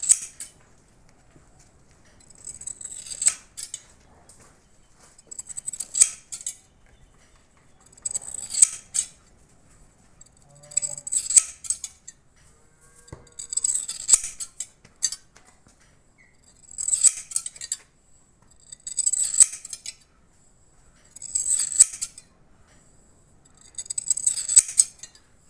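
Scissors snip steadily through a horse's mane along the neck line, crisp close cuts repeating roughly every two to three seconds with quiet pauses between.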